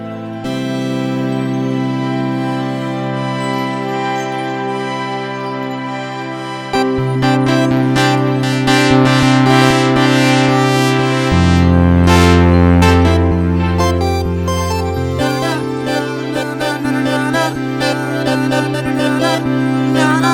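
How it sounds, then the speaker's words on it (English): A mono synthesizer set up to play polyphonically, with an echo effect on it: loud, sustained chords shift and layer while repeated note trails ring out behind them, and no voice is heard. "Oh, there's our echo."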